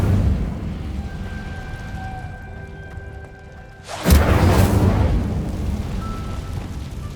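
Incendio fire spell cast in Hogwarts Legacy, a sudden loud whooshing burst of flame erupting partway through over a steady low game ambience, then a sustained roaring tail.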